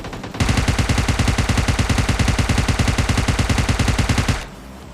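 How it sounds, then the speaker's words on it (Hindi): Heavy automatic gunfire in the game PUBG Mobile Lite, a loud, rapid, evenly spaced burst of shots lasting about four seconds before cutting off, with no talking over it. "सामने से सेंट्रल रोड की तरफ से मुझे बहुत तगड़ी फायरिंग की आवाज़ आ रही थी"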